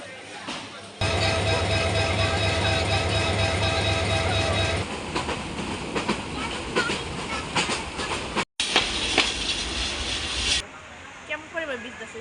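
Train travelling on rails from Kishoreganj to Dhaka: a loud, continuous rumble with rhythmic clickety-clack of the wheels, shifting in tone partway through and breaking briefly near the end, with voices talking over it.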